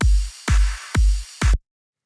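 Drum rack beat in Ableton with the clap played on the beat together with the kick, four punchy combined hits at an even pulse, loud and close, then silence.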